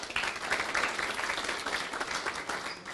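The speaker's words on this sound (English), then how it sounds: "So a big round of applause and welcome to you" A room full of community leaders at a business council gathering in Sydney claps in a dense, lively burst of applause, steady and fairly loud across the whole stretch with no speech over it.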